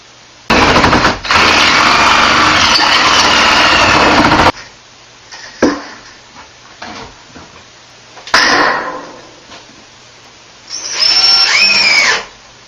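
A power drill drives screws into moisture-resistant sheetrock with a treated, fiberglass-coated back: a loud sustained whir of about four seconds, then several short bursts and a final rising whine, all close.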